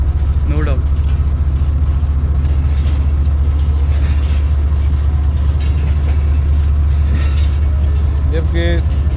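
A Bombardier locomotive hauling the Jaffar Express gives a loud, steady low diesel rumble that fills the whole stretch, with voices talking over it from inside the cab.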